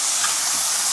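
Mushrooms frying in a hot pan, a steady bright sizzling hiss with no break, loud and close, without any talking.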